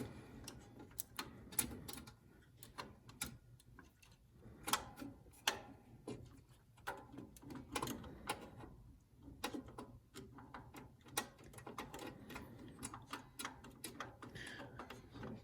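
A small ratchet fitted with a size 0 Phillips bit backs out tiny screws on an Alex Duetto espresso machine, giving faint, rapid clicking in irregular bursts with brief pauses, close by and with no talking.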